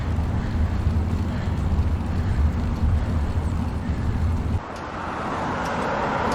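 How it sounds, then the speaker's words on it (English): Traffic on Melbourne's Eastlink freeway heard from a road bike descending a long gradient near Jells Park: a steady low roar of passing vehicles mixed with wind rush, dropping to a quieter hum near the end. "Hear the traffic from that Eastlink freeway"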